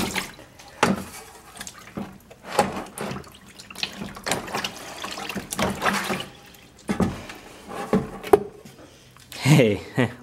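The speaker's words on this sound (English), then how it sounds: "I'll go ahead and flip it over and rinse it" Tap water runs and splashes as a vinegar-soaked control panel from a Track & Field arcade machine is rinsed, coming in uneven bursts with pauses, close and moderately loud, while someone speaks briefly over it.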